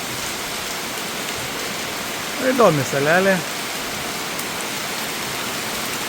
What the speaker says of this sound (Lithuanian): Ir va čia matom, kaip fainai lyja.